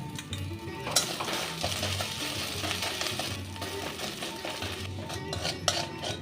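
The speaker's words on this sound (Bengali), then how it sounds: "আদা কাঁচা লঙ্কাটা ভাজা হয়ে গেছে।" Ginger and green chili paste frying in oil in a pan for a rohu fish head and taro leaf dish, close clinking utensil scrapes and stirring over a continuous sizzle, no talk.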